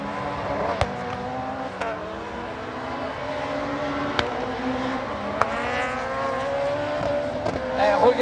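Audi and other rallycross cars race round a floodlit night circuit, engines droning steadily with rising revs, gear-change pops and brief tire noise, loud and continuous without talk.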